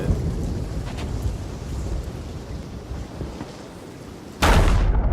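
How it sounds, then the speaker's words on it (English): A lightning strike with thunder in the pirate video game Sea of Thieves hits as a sudden loud broadband crack near the end, after a long stretch of steady wind and sea rumble. "not only did I get hit by lightning, I got hit by lightning with the gun barrel in my hand and I died"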